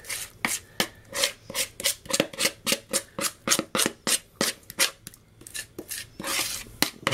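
Cake batter for an iced Bakewell tray bake is scraped into a baking tray with a steady run of short, close scraping strokes, about two or three per second, with no talking.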